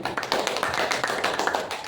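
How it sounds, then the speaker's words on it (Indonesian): A classroom of students applauds a group presentation with quick, moderately quiet clapping, the individual claps blurring into a steady patter over two seconds. "Beri tepuk tangan dari atas presentasi dari kelompok 3."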